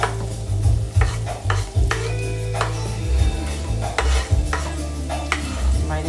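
Garlic, onions, Cubanelle peppers and fresh oregano sizzle and get stirred in a pot for a garbanzo stew, steady frying hiss broken by repeated scraping and clanking of the spoon against the pan, no voices.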